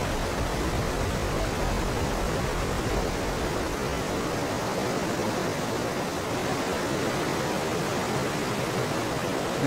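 A waterfall in the video game Raw Danger roars as a steady, dense rush of broadband noise that stays loud and unchanging throughout.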